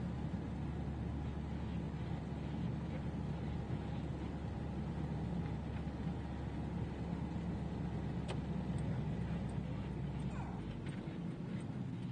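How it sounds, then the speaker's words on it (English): A car travels slowly along a road on Spurn, heard from inside with a steady low engine and road rumble throughout, no clear voices. "I'm going to pull in and let this car behind us pass us, because you're driving mad"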